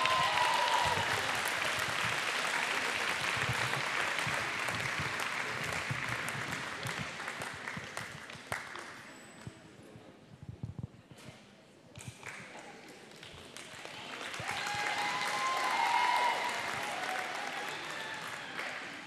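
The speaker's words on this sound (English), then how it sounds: "a round of applause for Lilydale, gracious in defeat this evening" A netball grand final crowd applauds steadily in an indoor venue, fading to a lull midway before swelling again, with an announcer's voice and occasional ball bounces among the clapping.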